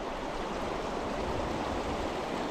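The Nantahala River rushes through a steep, forested ravine, a constant broadband roar of flowing water that stays steady and close with no voices.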